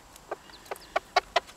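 A hen clucks softly while feeding her chicks, giving five short, evenly spaced clucks that grow a little louder toward the end, close by with no talk.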